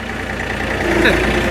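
A farm tractor engine runs in a paddock, giving a steady, close, droning idle that holds level the whole time.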